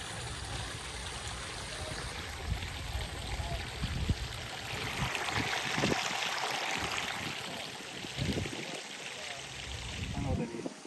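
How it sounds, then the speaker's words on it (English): Well water flows and drains through basins in a koi farm bog system in Homestead, Florida, a steady, moderately loud trickling and pouring that runs throughout with some splashing. "And it just fills up with well water. And then it drains right there."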